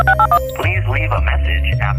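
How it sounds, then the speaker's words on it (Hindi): A few quick telephone dial tones beep in succession, then give way to a steady, droning tone with a musical backdrop. "मैं अभी टीना को फोन करती हूँ और कैफे में बुलाती हूँ।"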